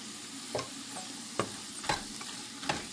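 A spoon stirs an ivy gourd fry in a pan, making four distinct scraping strokes over a low, steady sizzle. The sound is close and quiet, with no voices.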